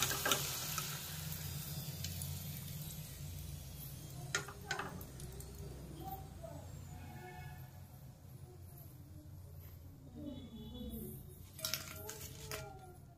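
Potatoes frying in a pan over low heat give a soft, steady sizzle with occasional clicks and clinks of a utensil, faint and continuous under quiet talk.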